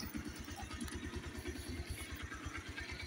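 A motorcycle engine idling steadily at the roadside after the bike has stopped, its low, even putter continuous and moderately quiet for a few seconds with no talk over it.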